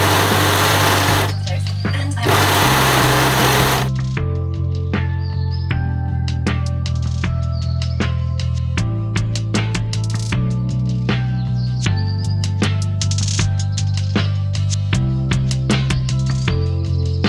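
A sewing machine serging and topstitching skirt panels together, running in close, loud bursts of rapid mechanical whirring that start and stop, with a voice talking over parts of it.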